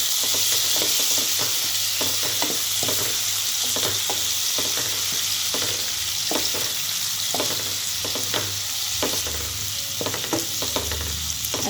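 Tomato chutney fries in a pan with a constant loud sizzle and hiss while a spoon stirs it. Repeated scraping strokes sound close up against the steady frying.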